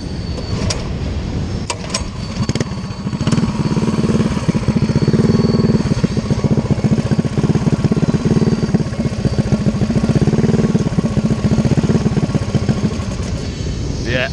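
A Coleman CT100U mini bike running on a newly swapped engine roars loudly and steadily up close, its revs surging and easing in long waves throughout.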